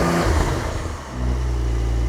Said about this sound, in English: So give it some revs.